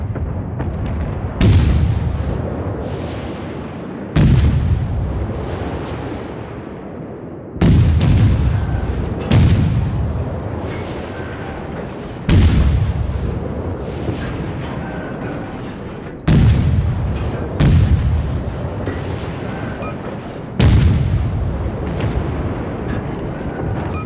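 Rear gun turrets of a warship firing in World of Warships, seven heavy booming salvos spaced a few seconds apart, each a sharp loud blast trailing into a long rumbling decay, with no voices.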